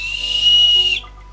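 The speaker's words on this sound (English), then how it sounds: "that's right, a whistle." A single sustained whistle blast at a pagan festival gathering, loud and steady for about a second before cutting off abruptly, with no voices over it.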